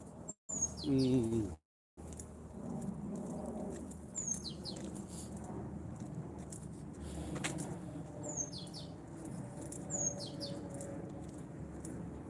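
Birds chirp and tweet intermittently in the distance over a quiet outdoor hum, with short high calls repeating every few seconds.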